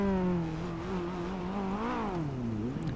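Lamborghini Gallardo engine in GTA 5 revving loudly, a steady whining drone that dips, climbs and falls again over three seconds, with no voices.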